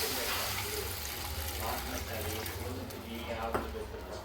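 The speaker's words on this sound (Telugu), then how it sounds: "we need to pour some water." Water poured into a pan for Maggi noodles, with an egg-and-spice home recipe: a steady, close splashing pour runs throughout over a low kitchen hum, with brief clatter near the end.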